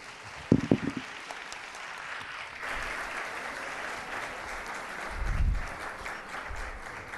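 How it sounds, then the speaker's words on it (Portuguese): An audience at a plastic surgery symposium gives applause in honour of grandparents on Grandparents' Day, fairly faint and scattered, with a brief sharper burst of clapping near the start. "solicitaria que esses netos que aqui estão, com uma salva de palmas, saudassem os avós no Dia dos Avós"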